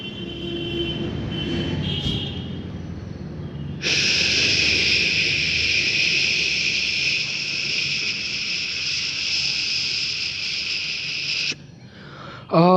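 A voice mimics FM radio static from an untuned frequency. It starts with breathy hissing, then becomes a loud, sustained, crackling hiss for several seconds before it cuts off.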